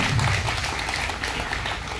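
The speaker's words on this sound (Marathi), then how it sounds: "मॅडमच्या कार्यासाठी आपण जोरदार टाळ्या वाजवून त्याचे स्वागत करायचे आहे" An audience at a Navratri community event clapping to welcome a DCP, a dense, steady wash of applause heard up close and fairly loud for the whole brief span.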